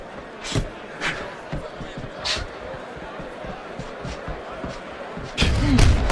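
Boxing punches land in a heavyweight bout between Alexander Povetkin and Frank Bruno: several dull thuds spread across the clip, with a louder pair of impacts near the end over steady crowd noise and commentary.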